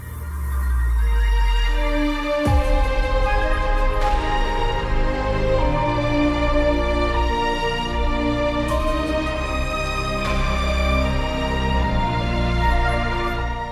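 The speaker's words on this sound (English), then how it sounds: "What you're hearing right now is the lobby theme for the event Lone Trail from Arknights." Lobby theme for the Lone Trail event in the video game Arknights: full orchestral-style music with a deep low swell opening into sustained layered harmony and occasional bright accents, loud and continuous with no talking.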